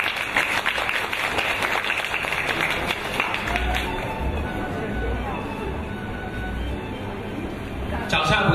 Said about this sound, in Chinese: 我们再一次用热烈的掌声有请张雪莹